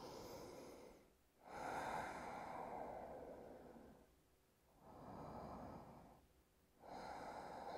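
Slow Ujjayi yoga breathing during a beginner morning session, long audible ocean-like breaths with a soft throaty rasp, three drawn-out cycles separated by brief pauses, quiet and close.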